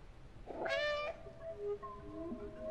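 A single meow from a cat in a video game, clear and fairly close, with a harmonic stretch and a quieter second call following, alone without talk.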